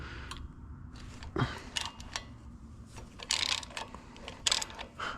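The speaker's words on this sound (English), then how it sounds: "I want to go ahead and see if I can get these bolts out." A wrench works stainless bolts loose on a John Deere 4840 tractor during an overhaul, giving faint, irregular metallic clicks and ratcheting clunks close by in a quiet shop.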